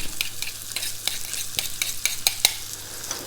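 Garlic is stirred as it fries in a pan, with a steady sizzle underneath and irregular sharp scrapes and clicks from the spoon, loud and close, with no speech.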